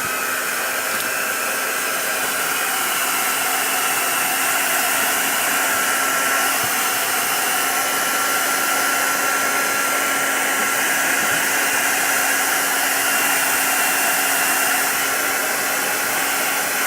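A heat tool drying wet ink on a mixed media layout blows with a loud, steady, close rushing whir that keeps going without a break.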